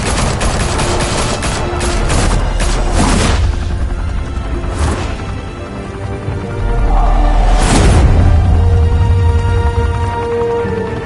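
Loud, sustained gunfire and booming impacts from a Batman action video game, with rapid repeated shots and heavy blasts filling the scene and almost no talk.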